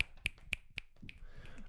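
Crisp finger snaps ring out one at a time, about four evenly spaced, close and sharp, before they fade into a light murmur of background sound.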